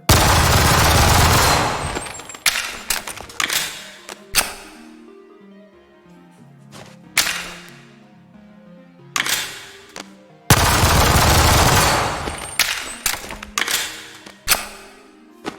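Gunfire rings out in the VR game Bonelab. A loud burst opens the clip, followed by scattered single shots and short clusters with mechanical reload clicks in the gaps, then another sustained burst and more single shots.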